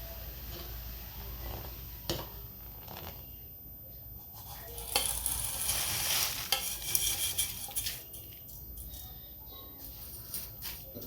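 Vermicelli being stirred into simmering milk for kheer, a soft continuous scraping and swirling in a pot that grows busier midway, with occasional light clinks of a spoon against the metal, close by and with no talk.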